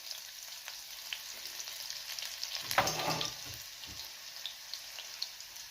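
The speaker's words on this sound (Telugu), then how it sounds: "ఇది కొంచెం వేయించుకోవాలి." Garlic, green chili and mustard seeds fry in a pan for a beetroot snack, giving a continuous soft hiss with a brief louder crackling burst midway and a few light stirring clicks, close by, with no talking.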